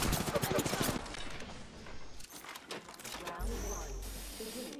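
Rapid automatic weapon fire in the Apex Legends shooter, a quick stuttering burst of shots up front that gives way to busier game effects and a voice talking over the mix.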